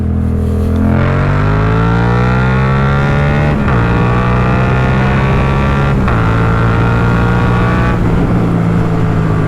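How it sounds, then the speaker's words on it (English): A Yamaha MT-07 motorcycle is opened up hard, its loud engine climbing steadily in pitch, then breaking at three quick gear shifts before it winds up again each time. "So once I pass that sign, I'll just rip it open a little bit"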